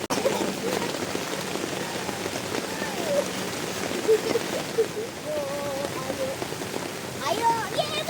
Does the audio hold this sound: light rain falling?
yes